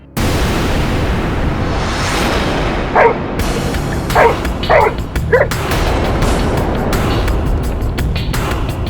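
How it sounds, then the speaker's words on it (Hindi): A dog barks in a handful of sharp, separate barks over a steady background noise, moderately close and loud. "क्यों भौंक रहा है?"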